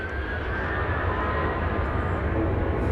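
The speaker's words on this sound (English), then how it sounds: "We have flight 2515 going to Atlanta. It's a 737-800. Got to get off the ground here" A Boeing 737-800 airliner bound for Atlanta takes off at Dallas Love Field, its jet engines giving a loud, sustained roar with a broad rumble and faint whine, steady throughout without talk.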